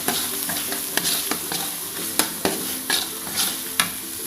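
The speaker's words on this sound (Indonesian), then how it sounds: "Aduk-aduk sampai harum ya, sampai matang" Spice paste with bay leaves, lime leaves and lemongrass stirred and fried in a pan for jengkol stew, a steady close sizzle broken by repeated scraping stirs of the spoon.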